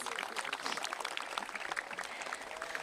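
Faint applause from a crowd including about 200 youth at a Toronto Argonauts and Toronto FC partnership event, a brief patter of clapping with voices mixed in.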